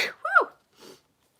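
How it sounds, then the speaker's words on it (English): A single close, fairly loud sneeze with a sharp intake and burst, followed a moment later by a second, softer sneeze, then silence. "Double sneeze."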